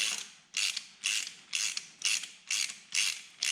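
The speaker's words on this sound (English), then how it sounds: "I'm going to drive that bolt in to just push those threads out ever so slightly" A ratchet wrench drives a bolt into a stacked Heli-Coil threaded insert, giving about seven evenly spaced, close, crisp clicking strokes, with no speech.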